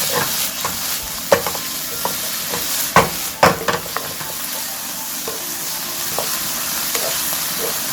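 Pork belly stir-frying with soy sauce in a pan, a constant close sizzle broken by sharp clanks and scrapes of a spatula against the pan, no voices.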